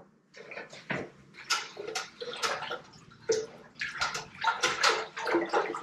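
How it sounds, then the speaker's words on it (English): Liquid sloshing and swirling in a brewing fermenter for a hard seltzer kit, with repeated splashy stirring strokes and gurgles, fairly close and steady. "let's give this a good stir"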